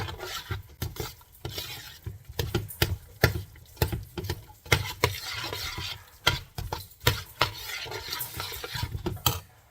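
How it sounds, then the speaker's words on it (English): Mashed potatoes being stirred with milk and sour cream, a steady run of close scraping and clacking strokes against the pot with irregular rhythm, no voices over it. "And then we're going to mix this up, warm it up."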